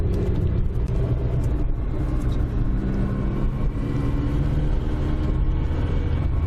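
Inside a moving car, a low steady rumble of engine and road noise continues throughout, with no talking.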